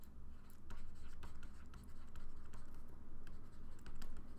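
A pen scratches out a handwritten math conclusion, producing faint, quick strokes and taps in an irregular rhythm, close and quiet with no talking.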